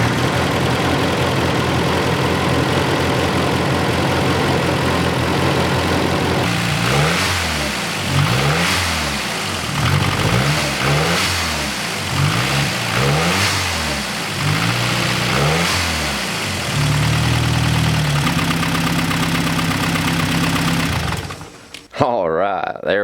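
A 1989 Volvo 760 Turbo with its alternator removed cranks, fires and settles into a rough idle, then revs up and down several times before a brief higher steady run, ending in a clunk; loud and close.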